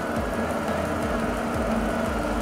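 A Kia All New Morning idles steadily at close range during an inspection, giving a continuous low engine hum with a faint rhythmic knocking pulse and no speech.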